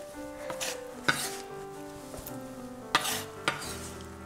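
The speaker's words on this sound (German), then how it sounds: "Jetzt gebe ich das alles in meine Pfanne hinein, die Ananasstückchen." Pineapple pieces sizzle in a frying pan with a steady soft crackle, punctuated by sharp metallic clinks and scrapes of a utensil against the pan.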